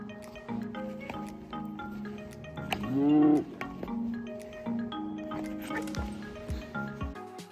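A single cow moos once, loud and drawn out, amid scattered clattering and shuffling noises from animals close by.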